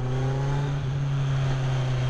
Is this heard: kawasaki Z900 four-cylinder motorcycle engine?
yes